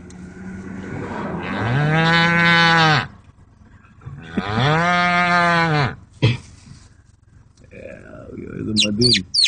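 A man imitates a cow's moo with his voice, two long harmonic lowing calls a few seconds apart, loud and close, followed by short vocal noises and laughter-like sounds.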